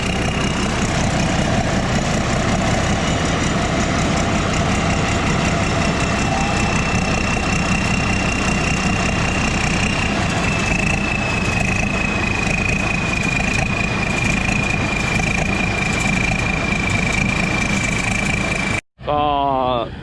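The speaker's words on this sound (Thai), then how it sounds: "หกล้อมาพอดีเลย" A six-wheel truck idles in a rice field during harvest, a steady, loud, low diesel rumble that runs nearly unbroken before cutting off briefly at the very end.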